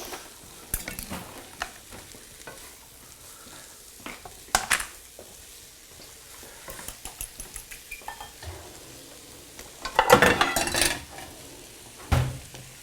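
A big frying pan is handled during a home stir-fry cook-off, with scattered clanks, scrapes and knocks of metal on a stovetop, some louder bursts, and faint sizzling in a quiet kitchen.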